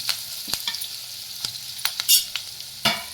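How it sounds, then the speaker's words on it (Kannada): Curry leaves and onions frying in a pan for a jackfruit fry, a close sizzle with sharp crackling pops and spatula scrapes scattered irregularly over a few seconds, with no talking. "ನೋಡಿ, ಕರಿಬೇವಿನ ಹಾಕ್ತಿದ್ದೀನಿ. ಈರುಳ್ಳಿನೂ ಅಷ್ಟೇ ಇದಕ್ಕೆ ಹಾಕ್ತಾಯಿದ್ದೀನಿ."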